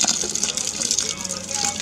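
Water flowing over a grain bed during fly sparging for a Cascade pale ale homebrew, a steady close gushing trickle with a hiss, continuous and fairly loud.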